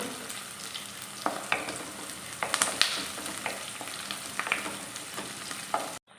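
Curry leaves and green chillies frying in hot oil for a lime pickle, a steady close sizzle with crackles and small pops throughout, no voices.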